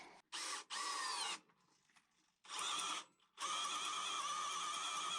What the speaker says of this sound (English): this crazy drill bit has shredded the wood to pieces